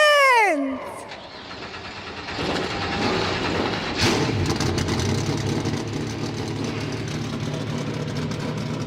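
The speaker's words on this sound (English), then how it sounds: "Drivers, start your engines!" Several NASCAR Xfinity Series stock car engines fire up together at Richmond Raceway, a dense sustained roar rising after a brief high whine at the start and holding steady throughout.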